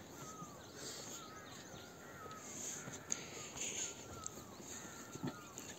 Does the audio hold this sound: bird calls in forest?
yes